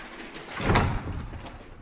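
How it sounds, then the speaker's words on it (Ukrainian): A door opening with a heavy sliding thump and rumble, close by and fairly loud, fading into muffled room noise afterward without speech. "Відчиняйте двері."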